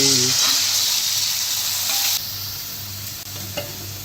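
Loud, steady sizzling and hissing of crabs frying with browned onions in a hot pan, with occasional stirring clatter.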